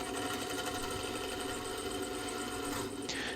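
Wood lathe spinning a segmented bowl while a high-speed steel cutting tool refines the exterior, giving a steady dense whirring drone with constant scraping texture, close and unbroken, with a brief shift in tone near the end.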